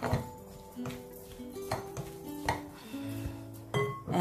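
Beefball ingredients being stirred in a bowl, with repeated clinks and knocks of a utensil against the dish at an irregular rhythm, close and fairly quiet.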